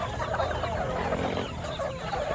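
Gamecock roosters cluck and chatter at feeding time, a dense, steady farmyard din of many birds close by with no talk over it.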